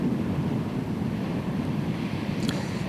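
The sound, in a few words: strong sea waves and wind at fishing spot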